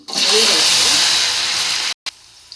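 Garlic dropped into hot oil with popped mustard seeds, a loud bright hiss of sizzling that holds steady, then cuts off abruptly near the end before a brief quieter return.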